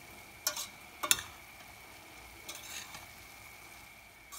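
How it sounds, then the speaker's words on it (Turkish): A spoon stirs spiced minced meat and leek filling in a pan. Several short, crisp scrapes and clinks come close together against a faint, quiet background. "Şimdi karıştıralım bir güzel."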